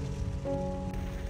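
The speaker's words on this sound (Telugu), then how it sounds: "కానీ వర్షం మాత్రం ఫుల్ గా పడుతుంది" Heavy rain drums steadily on the outside of a car, a dense, continuous wash of drops with a faint low hum underneath and no voices.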